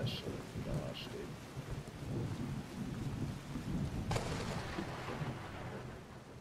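Thunderstorm in the Skyrim video game: steady rain hisses throughout while low thunder rolls underneath, with a sharper crack of thunder about two thirds of the way through.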